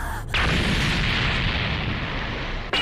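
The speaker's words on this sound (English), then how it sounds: "Cannon! Really, Luffy?" A sudden booming cartoon cannon blast kicks in and holds as a dense, roaring rumble, ending abruptly with another sharp burst.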